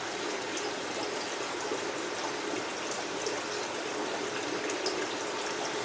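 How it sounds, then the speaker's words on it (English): Aquarium siphon tube drawing up water and detritus from a soil substrate in a planted tank, a steady close hiss of rushing, gurgling water lasting the whole stretch without pause. "Another thing you can do is actually siphon up the detritus and then pinch off the end of the tube to release the substrate back into the aquarium."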